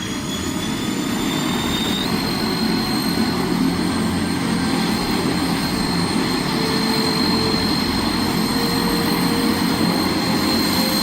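A Transall C-160 military transport plane's engines roar steadily after start-up following long inactivity, a loud continuous turbine drone with a rising whine, close and unbroken throughout.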